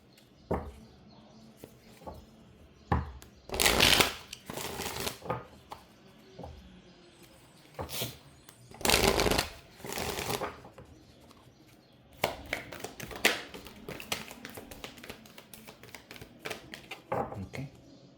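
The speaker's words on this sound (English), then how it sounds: "We're gonna pull some oracle cards from the angels" Oracle cards being shuffled, a series of crisp papery riffling bursts with scattered taps and flicks between them, close and fairly loud, no voices.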